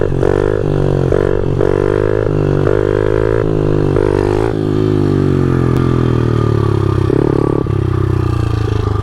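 Loud motorcycle engine running while riding, with rising and falling rev tones as gears shift and steady wind and road noise underneath.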